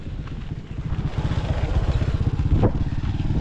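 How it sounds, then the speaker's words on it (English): A motorbike passes along a rural road on a chilly morning, its mid-pitched engine putting out a rapid, rhythmic chug that swells louder as it approaches and stays fairly close, with no one speaking. "There's the motorbike passing here."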